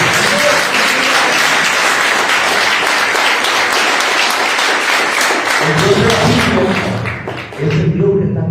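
Church congregation applauding loudly and steadily for several seconds, with some voices rising toward the end as the clapping continues.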